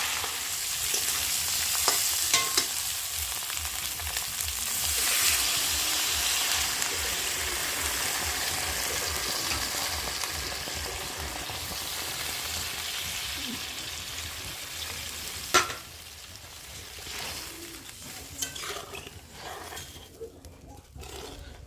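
Vegetable curry with spices sautés and is stirred in a pan, a steady frying sizzle under repeated scraping strokes, with a sharp knock near the end and the sound thinning out afterward.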